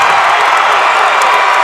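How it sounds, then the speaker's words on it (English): A crowd at a boys' high school basketball playoff game roars with sustained, loud cheering that fills the gym throughout, with whoops rising above the dense wall of noise. "the crowd here is in it."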